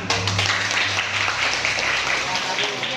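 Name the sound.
students clapping in a classroom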